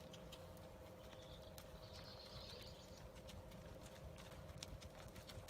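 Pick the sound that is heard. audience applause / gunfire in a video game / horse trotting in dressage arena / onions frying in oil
horse trotting in dressage arena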